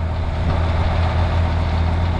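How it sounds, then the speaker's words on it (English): John Deere 4230 open station tractor engine idles close by, a loud, steady low diesel rumble with no breaks, alone without talk. "It's kind of cool just to bring that open station tractor out in the field every once in a while."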